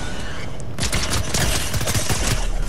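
Rapid pistol gunfire in the Fortnite video game, a dense, loud fusillade of shots that intensifies after a brief lead-in, with a voice faintly underneath.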